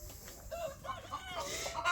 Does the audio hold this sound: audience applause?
no